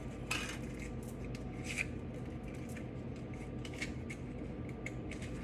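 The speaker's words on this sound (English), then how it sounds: "And we're just gonna line our cups." Foil cupcake liners are pressed into a muffin pan, giving light crinkling and scattered metallic clinks and taps, close and fairly quiet with no speech.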